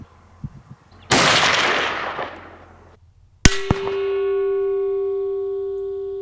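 A rifle shot at a scuba tank rings out as a sharp loud crack with a long metallic clang ringing on afterward, following an earlier burst of broad noise outdoors.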